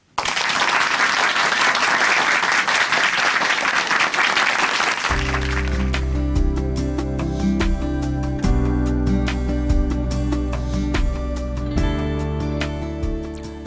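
An audience at a Korean church program claps steadily to welcome a guest speaker, and midway the applause gives way to loud instrumental music that carries on to the end.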